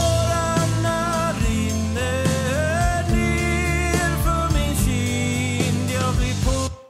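A mixed bass line with compression and distortion, ducked slightly under the bass drum hits, plays as a steady, full, continuous groove alongside drums, with no talking.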